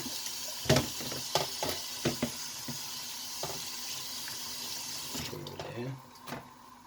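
Running water from a tap splashes over grape leaves being rinsed and handled, with scattered clattering and rustling, then the flow stops near the end.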